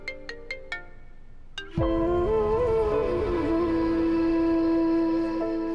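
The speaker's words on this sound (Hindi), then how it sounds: "अनु का फोन।" A few short electronic beeps, then a loud, steady ringtone melody starts and keeps playing clearly.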